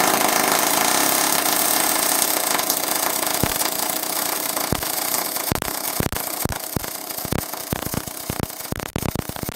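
MIG welding of aluminium with an R-Tech spool gun on an inverter welder, set around 20 volts: a steady loud crackling hiss throughout, broken by sharp pops and spits that grow more frequent toward the end.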